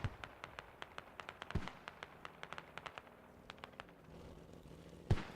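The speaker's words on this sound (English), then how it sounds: "Russia is continuing to punish them with these mortars." Mortar shells exploding on a battlefield in the military shooter Squad: a steady string of short, sharp cracks spaced roughly every quarter second, with a few heavier thumps standing out, all somewhat distant and unaccompanied by talk.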